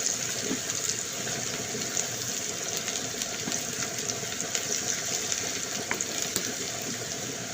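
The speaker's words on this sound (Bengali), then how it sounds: "আমি গোল্ডেন ব্রাউন করে ভেজে নিব।" Sliced onions with a pinch of sugar frying to golden brown in a pan for Bangladeshi chicken roast, giving a dense, continuous, close hiss that stays even throughout.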